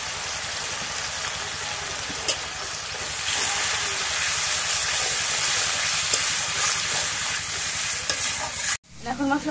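A spice paste of ground cumin, garlic and turmeric fries and is stirred in a home-kitchen pan before greens and potatoes go in. It gives a steady, close hiss with occasional scraping stirs, then breaks off abruptly near the end.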